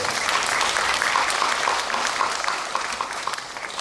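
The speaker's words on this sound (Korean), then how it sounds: "우리 실장님께도 박수 한번 쳐주시고" A crowd at a citizens' town hall meeting in Sejong City applauds with dense, steady clapping that tapers slightly toward the end, no voices over it.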